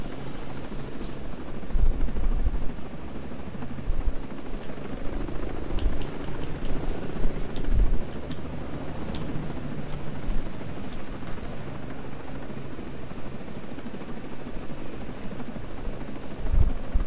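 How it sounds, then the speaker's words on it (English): Helicopter passing overhead, heard as a steady rumbling drone with a low rotor throb that holds throughout, fairly loud and constant, with no talking. "Hey, look for our helicopters."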